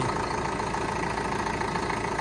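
The diesel engine of a YTO NLX1054 tractor, freshly overhauled, idles steadily with an even, continuous rumble and faint knocking texture, no talking.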